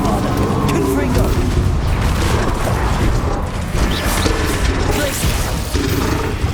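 Bombarda and Confringo spell blasts in Hogwarts Legacy, loud dense explosions and crashing impacts layered with mechanical rattles, coming in quick repeated bursts across the whole stretch.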